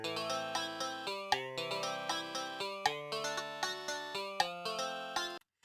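Guitar chord arpeggios picked one note at a time, evenly spaced plucks ringing over one another through several chord changes, close and clean with no voices, ending abruptly.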